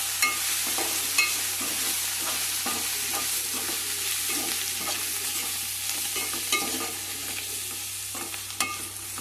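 Chili powder and turmeric sizzle steadily in a pan, with scraping stirring strokes and light clicks of the spoon against the metal repeating throughout, close and clear with no talking.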